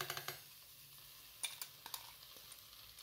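A spoon scrapes and taps softly in a bowl while curd is stirred together with green chilli thecha, a series of quiet clinks close by with no talking.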